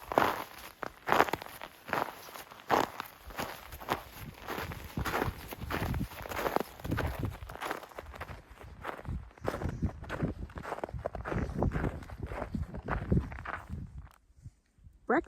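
Boots crunch over frozen ground on the Pacific Crest Trail on a cold morning, steady close footsteps in an even walking rhythm, crisp and distinct with no talking.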